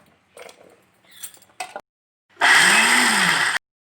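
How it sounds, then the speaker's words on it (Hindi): A few brief clinks and knocks, then a mixer grinder grinding coconut cubes whirs loudly for about a second in one short burst before cutting off. "इनको हम 2-3 बार मिक्सी को चला के इनको पीस लेते हैं।"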